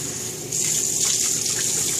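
Tepid tap water running for a skin rinse, a steady rushing hiss that swells suddenly and then flows continuously, close and fairly loud, with no talk over it.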